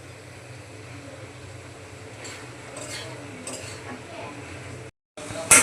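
A cooking pot of vegetables for a Bengali vegetarian dish gets covered with its lid after a little water is added, giving a few faint metallic clinks and scrapes over a low background hum.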